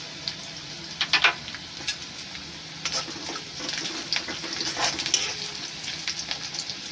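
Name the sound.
curry leaves and asafoetida sizzling in frying onions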